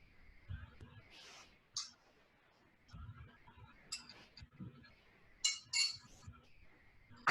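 A spoon stirs lemon juice into hummus in a bowl, giving repeated light clinks and scrapes against the bowl in short irregular bursts, fairly close, with no talking.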